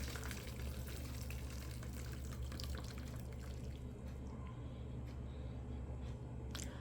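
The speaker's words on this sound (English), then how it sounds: "You're gonna strain it from the boiling water." Hot water from boiling cooked ackee pours and splashes steadily through a strainer, a faint continuous stream with dripping, no voices.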